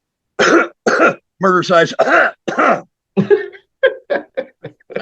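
A series of harsh, close coughs, several loud bursts followed by shorter, quicker hacking coughs.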